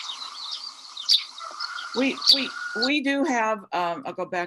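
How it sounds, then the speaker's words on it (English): Eurasian tree sparrow gives a couple of short, bright chirps over a soft background before a person starts talking close by. "here's the sound of the tree sparrow"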